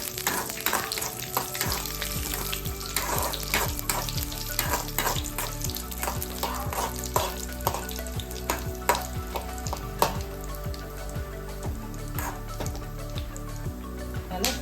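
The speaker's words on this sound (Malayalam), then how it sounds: "രണ്ട് പച്ചമുളകും കൂടി കൊടുക്കണം. എന്നിട്ട് ഒന്ന് ഇളക്കി കൊടുക്കണം." Green chillies stirred into a hot pan while making rasam, a constant close sizzle and frying crackle with a regular scraping stir repeating about every half second throughout.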